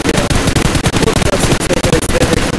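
Rapid, continuous automatic gunfire in the mobile battle royale game BGMI during a competitive custom match, loud and dense with sharp repeated shots throughout.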